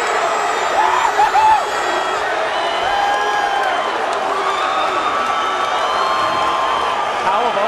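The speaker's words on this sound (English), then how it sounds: "Let's go back and listen to the crowd when Ryan Ford finished Spears." A large arena crowd at a TFC10 mixed martial arts event roars, cheers and whoops continuously and loudly as a fight ends.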